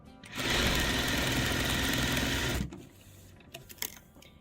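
A sewing machine stitching two quilt blocks together, a close, loud, steady whirring run of about two seconds that stops abruptly, followed by quiet handling clicks and rustles.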